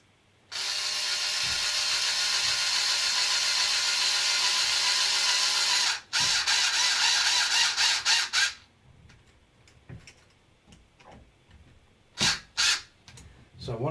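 An electric screwdriver set to its lowest torque drives screws into the front axle housing of a Losi LMT Vitavon 7075 build. It gives a steady, close motor whine for about six seconds, then stops and starts in short bursts, with faint handling clicks between them.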